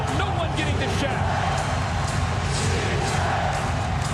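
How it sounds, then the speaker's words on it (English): Basketball crowd at the Staples Center during the 2001 NBA Finals, Lakers against the 76ers, a dense, loud arena roar carrying a sustained chant, with a commentator's voice mixed in. "Chant of defense from this crowd at Staples."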